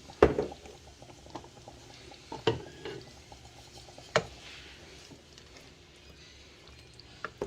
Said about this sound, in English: Gonna stir it up, and then we're just gonna let it hang out and simmer.